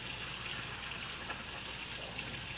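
Hardened Scrub Daddy sponge scrubbing under a running tap, steady broadband water rush with faint rubbing friction throughout, close and continuous.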